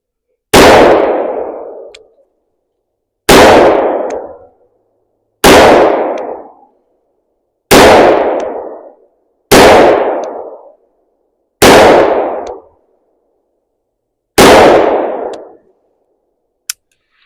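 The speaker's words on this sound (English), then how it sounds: "All right, we're going to try to hit the clays now," Seven loud single-action shots from a Taylor & Co .357 revolver fired at clay targets on a range, evenly spaced about two seconds apart, each a sharp crack with a short fading echo, and no talking.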